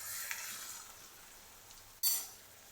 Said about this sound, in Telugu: కొద్దిగా కలుపుకోవాలి.